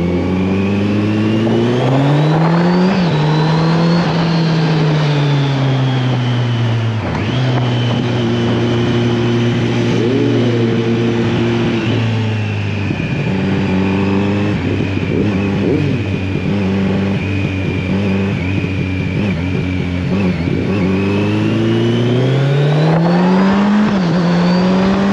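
A Kawasaki Z900 motorcycle, restricted to 47.5 hp for A2 licence, revs loudly and close by, its engine note climbing and falling through several sustained rises over about twenty-five seconds, with no talking.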